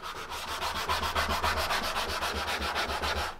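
Wood being hand-sanded with the grain, in steady back-and-forth rasping strokes at an even rhythm, close and moderately quiet with no talk.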